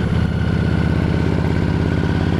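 A cruiser motorcycle's engine thrums steadily while riding at around 30 to 35 miles per hour on a winding road, a dense, even pulsing drone with no talk.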